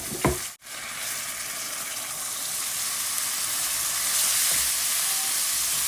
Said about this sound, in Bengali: তো মশলাটা আমি এখন ভালোভাবে কষিয়ে নেব।